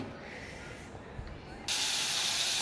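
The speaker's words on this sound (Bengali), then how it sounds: "ভালো করে চিংড়ি মাছটা আমি ভেজে নেব।" Shrimp frying in a pan for a spinach and eggplant shrimp curry, with a steady soft hiss that jumps to a louder, dense sizzle partway through and holds to the end.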